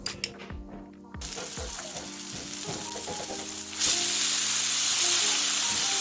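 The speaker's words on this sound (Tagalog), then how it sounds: "ilalagay na natin ito doon sa ating ginisang bawang na may kamatis" Canned corned beef dropped into sautéed garlic and tomato in a pan, sizzling and frying steadily, with a few stirring clatters early on and the sizzle swelling louder partway through.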